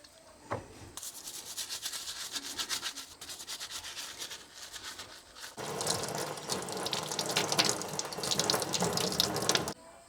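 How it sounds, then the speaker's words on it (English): Produce washed with dish soap under a running kitchen tap: water gushes and splashes into a sink while hands rub and scrub, with a brief lull before a louder, fuller rush of flow near the end. "I'm gonna wash it really well with some dish soap."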